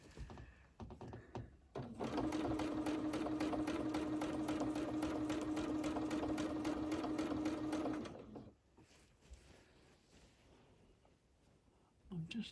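A sewing machine doing free motion quilting on a quilt's black border hums in a fast, even stitching run for about six seconds, with quieter handling sounds before and after.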